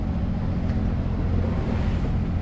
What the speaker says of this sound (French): Donc on met le moteur en appui là pour avancer.